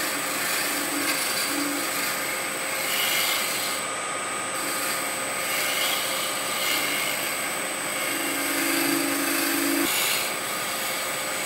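A woodturning scraper gently smoothing tool marks from a spinning workpiece on a lathe: a steady, continuous scraping rub over the lathe's constant hum, with no voices.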